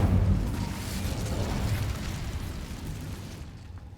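Incendio fire spell cast in the video game Hogwarts Legacy, a loud whooshing roar that bursts at once and then rumbles and crackles, slowly fading over a few seconds.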